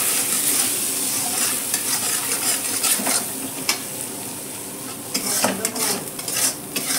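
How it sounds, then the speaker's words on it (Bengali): Spice masala with turmeric and salt stir-fried in a pan, a constant bright sizzle broken by repeated sharp scrapes and clinks of a spatula against the pan, close and without talk. "মতো হলুদ, আন্দাজ মতো লবণ দিয়ে মশলাটা কষিয়ে নেব ভালো করে।"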